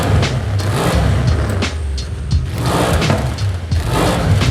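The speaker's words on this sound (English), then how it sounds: "You can hear a bit more of the overrun on like let off the throttle and the RPM's going down. You know, those little crackles and pops and stuff." A twin-turbo 710 hp Audi ABT RS6-R with an upgraded exhaust in the racing game Forza Horizon 5, engine roaring loudly and repeatedly surging with revs and throttle lifts, crackles and pops on overrun between pulls.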